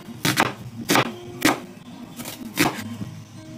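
Knife chopping onion into small cubes on a board, four or five sharp distinct chops spaced about half a second apart, close and fairly clear.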